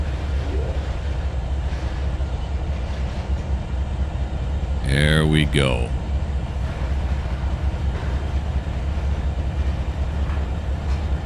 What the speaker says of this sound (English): listen to the rumble of that engine